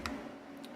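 A computer mouse clicks twice, light and brief, in a quiet room while a Word 2024 document is edited.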